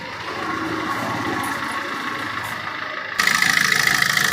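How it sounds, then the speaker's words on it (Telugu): A used car's engine idles steadily and close, a continuous low hum that grows slightly louder near the end. "ఇంజన్ కూడా ఎంత సైలెంట్ ఉందో చూసుకోవచ్చు"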